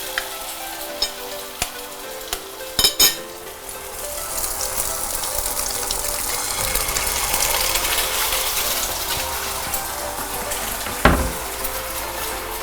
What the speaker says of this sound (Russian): Жарим яйца в глазуни.